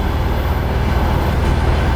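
Passenger train travelling through Russia at about 80 miles an hour, a steady loud rumble and rolling roar from on board with no talking.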